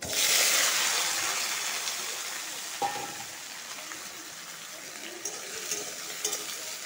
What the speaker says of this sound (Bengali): তেল গরম হয়ে গেছে, পাঁচফোড়ন দিব আর 2টা তেজপাতা দিব। আলুটা আগে ভেজে নিব।